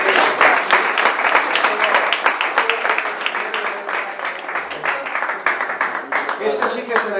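An audience gives sustained applause at an official commemorative event, dense crisp clapping from many hands lasting several seconds, with some voices mixed underneath.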